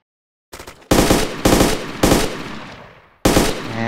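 Loud bursts of automatic gunfire in the military shooter ArmA 2, four or five sharp volleys in quick succession with brief gaps, the last one trailing off before a final burst.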